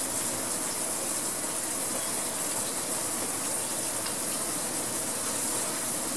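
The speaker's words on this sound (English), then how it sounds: "I had the hose shooting water right down on the screen." Steady, loud hiss of a garden hose spraying water onto a portable projection screen on a porch, an unbroken rushing spray with no talk.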